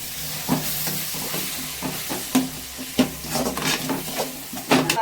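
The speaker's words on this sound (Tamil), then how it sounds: "வதங்கி பார்க்கலாம்ப்பா." Ingredients for a dried fish curry with country vegetables sizzle in a pan while a spoon scrapes and knocks the metal in an irregular rhythm, close and fairly loud, no voices.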